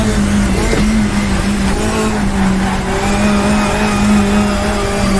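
A 1966 British saloon race car at Brands Hatch in GTR2 drones loud and close in a steady engine tone, with a brief shift around the first second and tire noise underneath, no talking.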